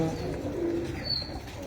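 Pet pigeon pairs coo softly in low, throaty murmurs close by, with a brief higher chirp over a steady background hum and no talk.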